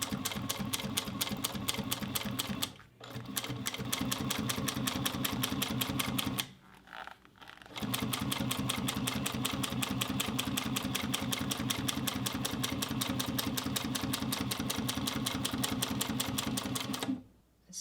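Industrial sewing machine running steadily as it top stitches thick gold leather for a bucket bag, a fast even needle chatter held close and loud, pausing briefly twice before carrying on.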